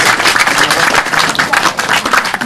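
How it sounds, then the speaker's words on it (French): Audience applause at the first edition of the Chemin Faisant Maroc event, a loud, dense burst of many hands clapping that holds steady throughout. "donc on applaudit d'abord."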